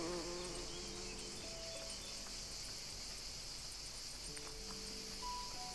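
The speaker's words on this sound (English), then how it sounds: "Find the nest, get honey from the bees." Bees hum around a wild nest in the farming game Everdream Valley, a faint steady insect buzz with a few soft tonal chirps over it and no talk.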